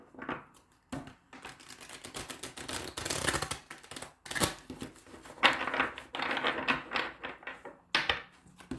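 Tarot cards are shuffled up close in a series of quick, papery riffling bursts with brief pauses between them.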